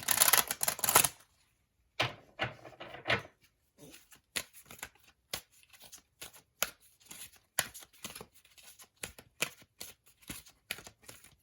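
Tarot cards being shuffled close by, with a quick riffle burst at the start followed by scattered soft slaps and taps of cards in irregular rhythm, and no talking.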